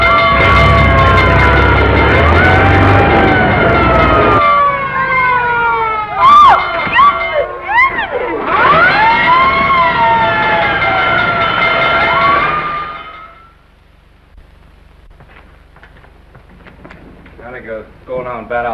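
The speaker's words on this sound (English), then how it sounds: "looks as if I finally get my ride on a fire engine" A 1937 film soundtrack carries a loud, wailing fire engine siren rising and falling over orchestral music and crowd noise, then fades into near silence with a few faint sounds at the end.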